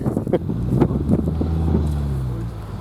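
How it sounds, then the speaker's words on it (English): Low, rumbling wind buffets the microphone outdoors, a steady blustery roar with a few brief bumps. "Now it's windy."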